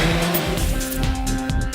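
Loud, continuous engine sound from a Suzuki GSX-S1000 motorcycle, a steady close roar with strong low harmonics and a sustained whine above it.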